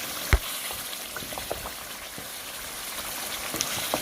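Homemade cream stirred into a frying white qorma makes a steady, close bubbling sizzle, with a sharp tap near the start and a few soft spoon knocks.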